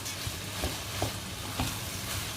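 Washed basmati rice is stirred in a pot with rhythmic scraping strokes, about two per second, over a faint sizzle. No talking is heard.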